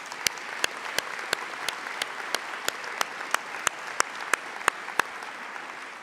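Audience applause at a university convocation ceremony: steady, dense clapping with a few sharper, louder claps standing out, moderately distant and continuous with no talk.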